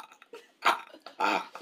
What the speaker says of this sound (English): She's breathing her burps in and out.